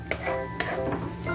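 Onion and garlic sauté in a pan for chicken afritada, a close, steady sizzle with quick scraping stirs of a utensil, no voices.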